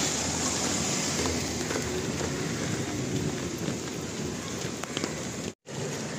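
Steady, dense monsoon-season rain in Mumbai pours down continuously, a broad hiss with scattered drops hitting nearby surfaces, briefly cutting out near the end.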